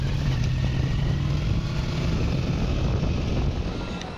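A motorbike rides along a road near Damankuh in Islamabad after a service, its engine droning steadily and loudly with wind rumble, no talking.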